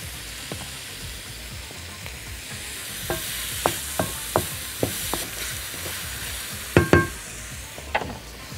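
Vegetables softening in a pot for Moroccan harira soup, with a steady low sizzle and a few scattered clinks and scrapes of stirring, including a sharper double knock near the end, with no talk.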